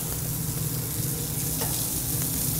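Food sears in a hot pan, giving a loud, dense, continuous sizzle that holds steady from start to finish with no talk over it.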